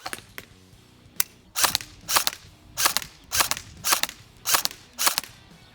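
LCT AS VAL airsoft replica firing at targets, giving a run of sharp, close shots, a few quick faint ones at first and then about eight louder shots in a steady rhythm, with no talk.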